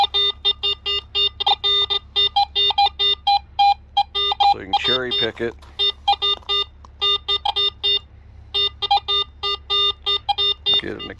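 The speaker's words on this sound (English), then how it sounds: "Get an occasional beep." Repeated short electronic beeps in a steady on-off rhythm from a metal detector sensing a penny, with a brief voice speaking in the middle.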